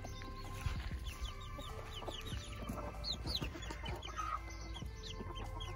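Chickens cluck steadily inside a coop holding a mother hen with her six-week-old chicks, with overlapping calls and occasional higher squawks continuing throughout amid constant low background noise.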